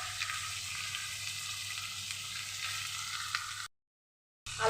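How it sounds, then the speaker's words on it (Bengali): Potato pieces fry in oil with salt and turmeric while a banana flower dish is being cooked, giving a steady, even sizzle that cuts off abruptly into silence near the end before returning briefly. "আলুটা একটু নুন হলুদ দিয়ে ভেজে নিয়েছি"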